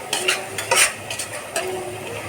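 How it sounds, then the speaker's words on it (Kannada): Masala and vegetables frying in a pan while being stirred, with a steady sizzle and several scraping spoon strokes against the metal, close and fairly loud throughout, with no talking. "ಫ್ರೈ ಮಾಡಾಕತ್ತೀನಿ ಮಸಾಲೆನ"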